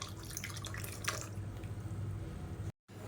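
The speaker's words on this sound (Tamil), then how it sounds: "இப்போ பாருங்கள், மிக்ஸி அலசிட்டு அந்த தண்ணியை சேர்த்துக்கலாம்." Water from rinsing a mixer jar trickles and drips steadily into chutney, a soft continuous splashing with no voices.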